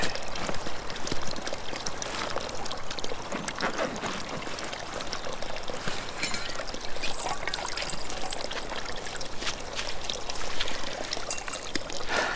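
Cold spring water pours in a steady, continuous trickling stream into a 1 liter Nalgene bottle on a mountain trail, close and fairly loud, heard alone without speech.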